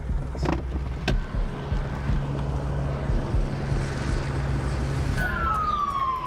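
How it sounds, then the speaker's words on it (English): A helicopter hovers overhead in Los Angeles. Its steady, low rotor roar fills the whole stretch, with passing traffic below and a brief siren rising near the end. "Dude, the helicopter's right there."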